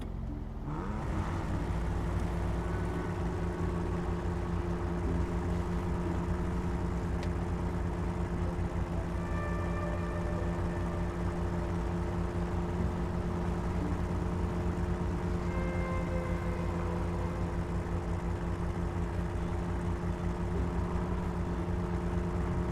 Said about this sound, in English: His exhaust is a little loud.